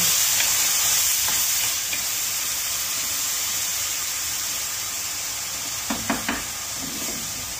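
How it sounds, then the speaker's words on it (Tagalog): White wine poured over rice in the pan for a mushroom risotto gives a constant, moderately loud sizzle and hiss, with a few sharp scrapes of stirring near the end. "Lagay na po natin yung white wine."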